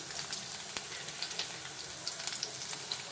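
Onion, ginger and garlic frying in oil for egg biryani, a steady, even sizzle with a few small crackles and pops, close and continuous, with no one talking.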